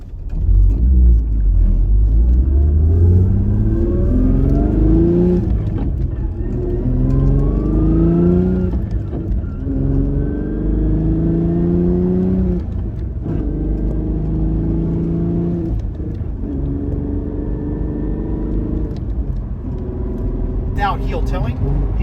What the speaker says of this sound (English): you can hear me blipping through my shifts as I upshift